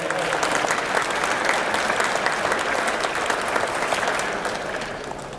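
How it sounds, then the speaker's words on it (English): Audience at a luncheon honoring community award recipients gives a big, sustained round of applause, dense and loud from many hands, tapering slightly toward the end. "Give them a big round of applause again."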